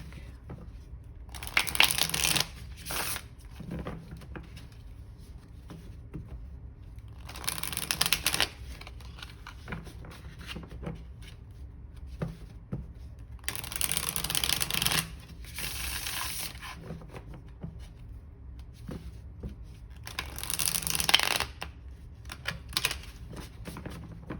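A tarot card deck shuffled by hand in several bursts, brisk riffling rattles of a few seconds each separated by near silence, close and fairly quiet.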